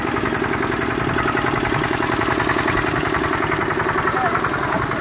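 Steady, close chugging of a Giriraj power tiller engine running in a farm setting, with an even rapid knock throughout and no break or speech.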